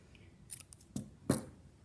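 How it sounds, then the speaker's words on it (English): Scissors snip through crochet yarn a few times while a bustier crop top is finished off, the quick close cuts crisp and distinct, the last snip loudest, against a quiet room with no talking. "cut and tie off our yarn."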